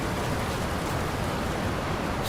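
Waterfalls in the video game Dragon Age pour out a steady, full-bodied rush of white noise, loud and unbroken from start to finish with no speech.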